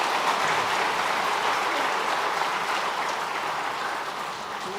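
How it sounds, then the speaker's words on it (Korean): Congregation applauding during a Korean Protestant Sunday worship service after a blessing prayer, a steady, dense wash of clapping that fills the room at full strength and eases off only slightly toward the end. "박수합시다."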